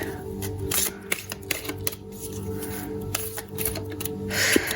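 Tarot cards are shuffled by hand, a run of close riffling, slipping and tapping card sounds that carries on steadily throughout.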